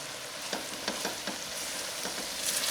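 Mixed vegetables cooking uncovered in a pan give off a steady, close sizzle, with soft stirring scrapes at intervals and no voices.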